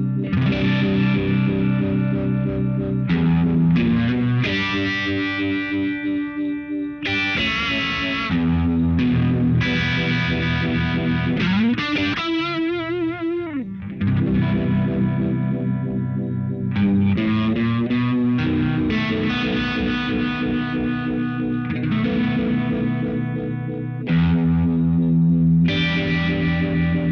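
Electric guitar runs through a Mojo Hand FX Rook Royale pitch vibrato pedal at a NAMM demo, playing thick distorted chords and riffs with a wavering, warbling pitch and brief sweeping vibrato passages, loud and continuous.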